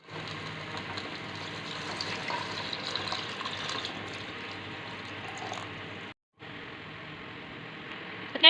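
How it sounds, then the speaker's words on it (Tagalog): Chicken broth pours steadily into a cooking pot in a continuous splashing rush, pauses for a moment, then resumes, with a brief clatter at the end. "Ayan na, pwede na siyang lagyan ng tubig"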